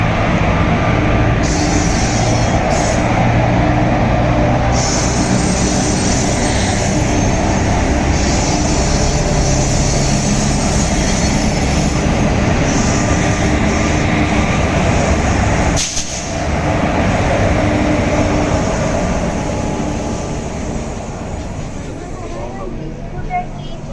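The Kirandul Express 18551 passenger train rolls on steadily, moving off from Bodawara after a delay, with a loud continuous rumble and wheel noise heard from inside the carriage and a brief dip near the end.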